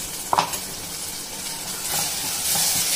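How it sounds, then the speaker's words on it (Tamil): Tomatoes sautéing in oil in a pan during home cooking, a steady close sizzle and hiss with a brief stirring clatter near the start and the frying growing slightly louder toward the end. "தக்காளி போட்டுக்கிறோமா? அதுவும் வதக்கிடலாம்."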